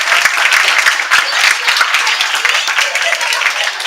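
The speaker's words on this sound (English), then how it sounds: "Let's give them another round of applause." A room of attendees at a board of education meeting gives a round of applause, brisk, close clapping that holds steady for a few seconds with some talk mixed in.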